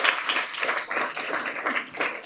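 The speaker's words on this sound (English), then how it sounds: "that's worth a clap right there" An audience at a climate awareness event breaks into applause, a steady wash of clapping with uneven swells that carries on throughout, with no talk over it.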